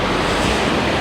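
The Brattfallet waterfall in the Swedish wilderness, a glacier-formed fall, roars as a steady, loud, broadband rush of water filling the whole moment with no other sounds.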